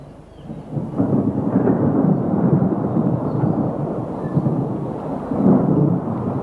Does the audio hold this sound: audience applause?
no